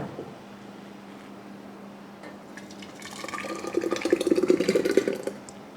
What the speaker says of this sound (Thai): เราก็เตรียมโหล สำหรับใส่ซอสมะเขือเทศนะคะ เราจะเทใส่ตอนที่ร้อนเลยนะคะ